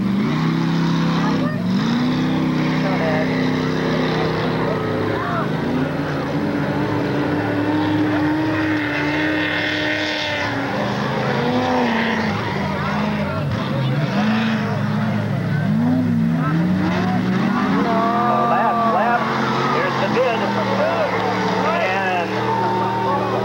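Class 6 racing cars roar around a dirt track at Bark River, Michigan in 1992, engines droning and shifting pitch continuously as leaders close on lapped cars, with an announcer talking over the loud, constant engine noise.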